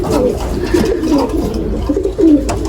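A pigeon coos steadily beside its eggs and a chick in a loft, low rolling calls repeating close by over a constant background hum.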